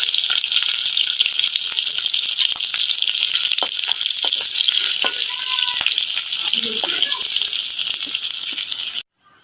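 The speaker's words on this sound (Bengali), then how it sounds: "মাছ কড়াতে আমি মাছ ভাজতে দিয়েছিলাম, দেখো আমার মাছ ভাজা প্রায় হয়ে এসছে।" Small fish frying in a wok give a loud, steady, close sizzle of hot oil with faint scraping stirs, continuing without talk until a sudden cutoff near the end.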